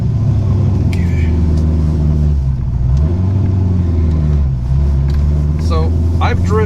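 A cammed C5 Corvette engine drives along with a loud, steady low rumble and a lumpy idle character, its pitch sagging and recovering as the car moves, with brief chirpy sounds near the end.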